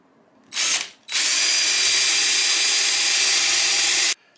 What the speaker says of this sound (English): drill a couple of holes on each side to take that